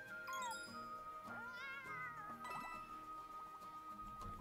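A cat meows in the Bowser's Fury video game, with a few rising and falling cries among bright game music and chiming effects.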